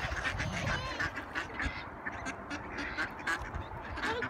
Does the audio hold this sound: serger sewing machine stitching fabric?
no